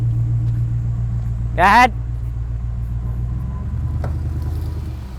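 A 1985 Dodge minivan being yanked along by a Land Cruiser, a steady low vehicle rumble running throughout with a brief rising engine surge near the start; someone speaks briefly.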